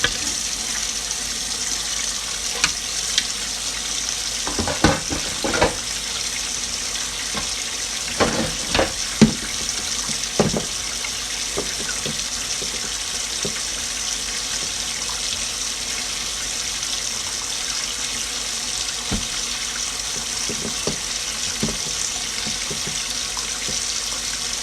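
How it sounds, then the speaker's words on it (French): Juicer parts rinsed by hand under a running hot-water tap, a steady hiss of flowing water with scattered clatters and knocks of the pieces against the sink. "Ce qui est plus facile, c'est de nettoyer avec de l'eau chaude, sincèrement."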